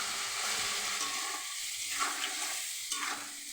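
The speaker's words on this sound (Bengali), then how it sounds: "এবার আমি আদা বাটা, জিরে বাটা, লঙ্কা, কাঁচা লঙ্কা, মশলা দিয়ে ভালো করে কষিয়ে নেব।" Potatoes fry in a pan with ginger paste, cumin paste, chillies and green chillies as spices are stirred in, a continuous hiss and sizzle with scraping stir sounds and no talk.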